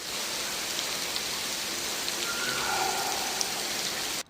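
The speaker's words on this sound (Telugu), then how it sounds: "ఈడ రెయిన్ రూమ్ అని ఒకటి ఉంది. ఆడ వాన పడతా ఉంటుంది." Artificial rain pours in the Rain Room in Sharjah, a constant even hiss of falling water with no pauses. No voices are heard.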